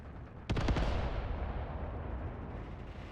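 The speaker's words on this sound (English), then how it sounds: "He's being hunted by these mortars." A single heavy mortar blast in the Mius Front war game, a sharp booming impact followed by a long, rumbling decay, fairly close and with no voices.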